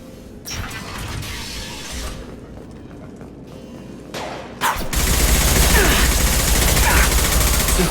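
In the Mass Effect 2 sci-fi game, shotgun blasts and a sharp report ring out amid combat noise. The sound swells into a dense, loud roar of gunfire and shattering debris in the second half.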